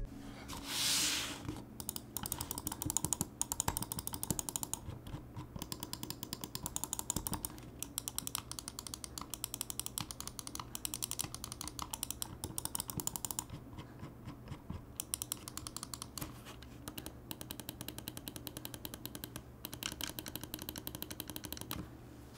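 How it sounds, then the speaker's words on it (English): Rapid mechanical clicking of Glorious Model D Wireless mouse buttons, steady and close, with bursts of quick repeated clicks running throughout and no talking. "Let's drop a sound test of this mouse so you guys can hear what it sounds like."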